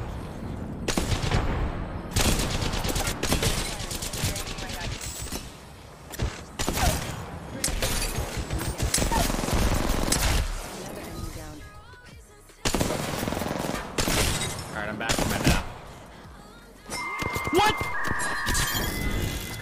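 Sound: gunfire in a shooter video game

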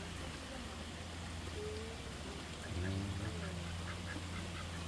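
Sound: mallard ducks quacking

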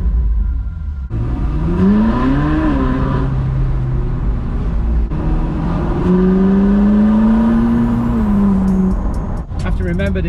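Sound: Ferrari engines revving

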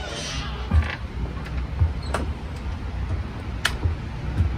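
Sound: generators running during a power outage

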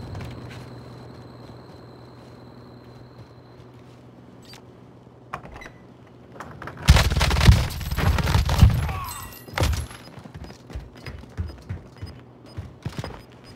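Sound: sniper rifle gunfire in a battle royale video game

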